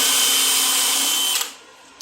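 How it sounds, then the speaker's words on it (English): A wire wheel brush spins on a drill with a loud, steady whine and gritty scrubbing. It stops abruptly near the end, then gives a short burst as the drill restarts. "I'm just going to run it on my drill."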